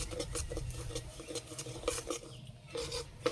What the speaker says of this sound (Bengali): হালকা আছে চিনিটা এভাবে নেড়ে নেব